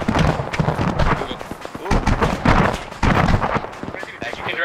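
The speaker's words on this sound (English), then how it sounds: "There's something big firing at our vehicles from way out there." Heavy gunfire from something big shooting at vehicles in a battle scene, repeated loud bursts and impacts in rapid irregular succession, with voices mixed in.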